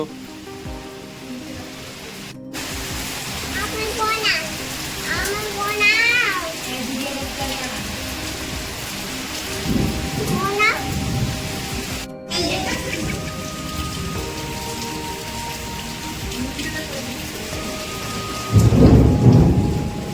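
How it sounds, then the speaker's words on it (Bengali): Heavy rain pours steadily while thunder rumbles several times, rolling and booming, with one loud crack near the end; faint voices can be heard underneath. "এত জোর মেঘ ডাকছে আর জোর পানি হচ্ছে"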